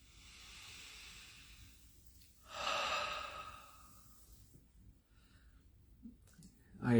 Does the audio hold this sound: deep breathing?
yes